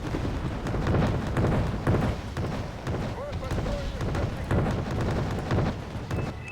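Battle din from the Wargame Red Dragon strategy game, with BTR armored vehicles firing in support: a dense run of booming shots and explosions over the full stretch, loud and continuous, with a voice talking briefly over it.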